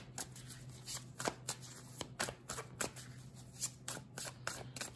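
Tarot cards shuffled by hand in a quick, steady riffle of soft papery flicks and slides, close and fairly quiet, with no talking over it.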